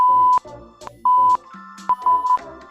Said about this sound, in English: Beeps will let you know when we got 5 more to go